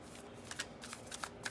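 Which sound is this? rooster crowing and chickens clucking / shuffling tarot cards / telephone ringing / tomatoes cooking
shuffling tarot cards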